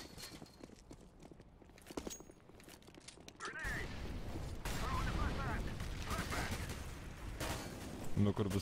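Gunfire bursts from the competitive shooter CS:GO crackle through a busy match mix, with rapid shots and clattering footsteps building louder in the second half while a player talks over it.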